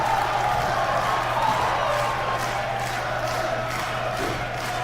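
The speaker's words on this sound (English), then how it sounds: "Adam Ace trying to whip this crowd into a frenzy." A wrestling crowd at an indoor show cheers in a steady, dense roar, loud and continuous, with faint whoops and a low hum underneath.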